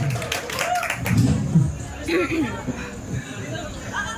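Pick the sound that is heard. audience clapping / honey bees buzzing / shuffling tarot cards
audience clapping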